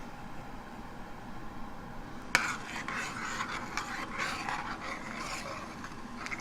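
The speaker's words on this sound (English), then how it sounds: "And stir that up." Salt and sugar stirred into warm pickling liquid for jalapenos and cucumbers: after a quiet start, a spoon suddenly scrapes and clinks against the pot in a steady, close run of stirring, with no talking.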